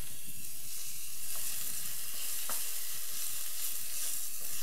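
Onions and minced garlic fry gently in olive oil for chili con carne, giving a soft, continuous sizzle with faint stirring clicks.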